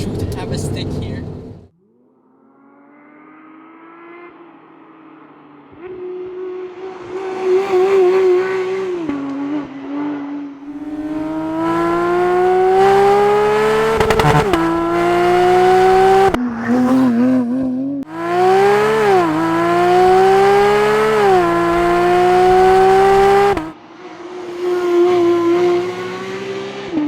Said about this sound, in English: And that's how a GT3 with a JCR exhaust sounds like.